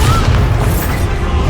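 Bombarda spell blast in the Hogwarts Legacy video game, a dense low boom rumbling steadily throughout a short burst of loud game combat.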